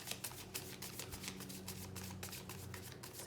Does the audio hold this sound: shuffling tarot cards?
yes